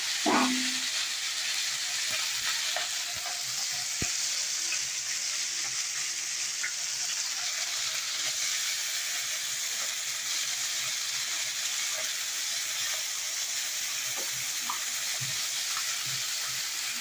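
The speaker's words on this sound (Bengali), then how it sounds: "মোরলা মাছ আমার ভাজা হয়ে গেছে" Small mola fish frying in hot oil in a home kitchen, a steady, soft sizzling hiss that runs throughout with a few faint clinks of stirring.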